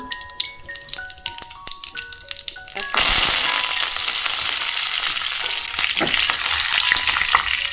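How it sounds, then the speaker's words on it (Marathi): Mustard seeds and cumin crackle and sizzle in hot oil in a pan, opening with scattered sharp pops before a loud, steady frying hiss takes over from about three seconds on, close up and with no talking. "आता तेल चांगलं तापलं आहे तर यामध्ये थोडंसे मी टाकणार आहे मोहरी मग जिरे"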